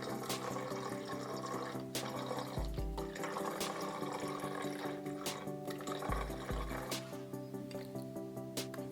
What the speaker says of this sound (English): next I'm going to take this OxiClean Spot and Stain. I'm going to pour it only up to the formula line